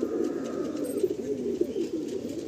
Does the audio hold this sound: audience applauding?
no